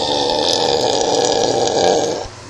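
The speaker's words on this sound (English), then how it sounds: "That stuff makes me burp like crazy" A long, loud, close burp after drinking Coke Zero, one continuous rumbling belch lasting about two seconds before trailing off.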